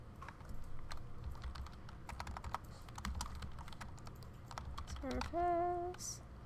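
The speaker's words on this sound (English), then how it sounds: "I'm just typing everything backwards right now." Quick, uneven clicking of typing on a computer keyboard, close and fairly quiet, runs in bursts for several seconds, followed near the end by a brief wavering voice-like tone.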